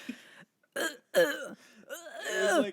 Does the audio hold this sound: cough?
yes